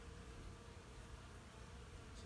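Honey bees buzz faintly during the removal of a large colony from a structure, a low continuous droning hum from a few lingering stragglers with no voices.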